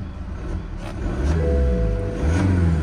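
A used car engine revs up shortly after starting, the low rumble rising and holding steady with a tonal whine on top, fairly close and loud, with no talking.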